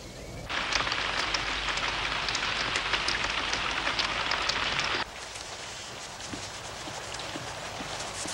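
Steady rainfall outdoors, a dense hiss of drops on surfaces that starts abruptly, holds loud and even, then drops to a softer, quieter patter for the remainder.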